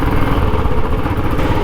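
A motorcycle engine runs loud and close at a steady, throbbing pace as the bike pulls away on a hill road near Lohaghat.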